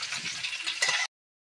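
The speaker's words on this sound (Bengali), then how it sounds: "এবার হচ্ছে আলুটা ভেজে নেব।" Potato frying in hot oil for a home-style biryani, a steady hissing sizzle up close that cuts off abruptly after about a second, no voices.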